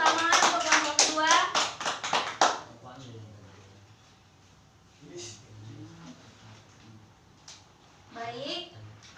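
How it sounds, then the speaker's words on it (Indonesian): A burst of clapping from a classroom group, quick and loud for a couple of seconds, then dies away into quiet room noise with a few voices speaking. "Tepuk tangan untuk kelompok kedua."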